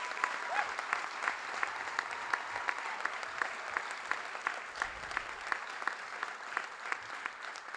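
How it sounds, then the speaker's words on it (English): A crowd applauds at a high school scholarship night, moderate and sustained, with distinct individual claps standing out in an even rhythm against the soft wash of hands. "A nice round of applause for all of you."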